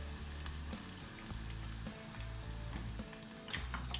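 Eggplants frying in a pan of oil produce a constant bubbling sizzle with scattered pops and light clinks. A low hum pulses underneath, the level is moderate and close, and there is no talking.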